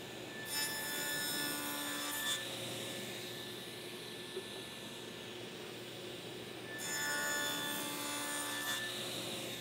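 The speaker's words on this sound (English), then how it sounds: "head over to the table saw and you're going to cut a groove on the inside faces" A table saw cuts a groove along the inside faces of cedar pieces, with two whining passes at the start and the end and a duller, quieter stretch between them.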